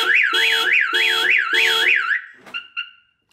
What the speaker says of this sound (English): I'm also show you what the car sounds like when the alarm goes off